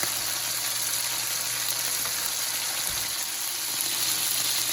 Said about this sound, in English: the chicken is starting to brown